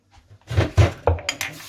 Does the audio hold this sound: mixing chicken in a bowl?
yes